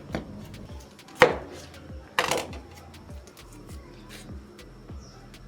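A kitchen knife chops through a pineapple on a board, giving a few sharp, distinct thunks spaced about a second apart, close and fairly quiet, over a faint low background hum.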